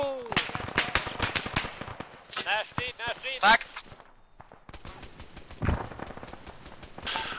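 Gunfire in the tactical shooter game Ricochet, sharp shots and bursts scattered through a busy exchange alongside footsteps, with voices talking over parts of it.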